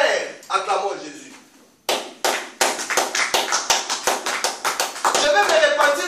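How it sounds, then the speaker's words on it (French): A church congregation claps together in a steady rhythm while praising Jesus, the sharp claps close and loud, with a voice speaking and calling out at the start before the rhythmic clapping takes over. "Acclamons Jésus."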